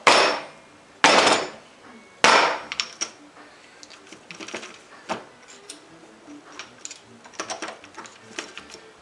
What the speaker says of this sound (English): I take this thing, I turn it upside down, and just drop it on the table a time or two, and they'll fall apart